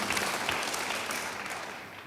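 A church congregation applauds during a worship service, a dense, steady wash of many hands clapping together that fills the space and tapers slightly toward the end.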